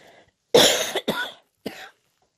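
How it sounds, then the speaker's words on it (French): A person coughs three times, close up, the first two hoarse coughs in quick succession and a shorter one after a pause. "Ah oui, on est le matin, je tousse."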